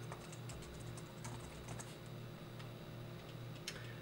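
Quiet computer keyboard typing, a scatter of light key clicks with a short burst near the end, over steady low room hum while someone searches for software on a Windows PC.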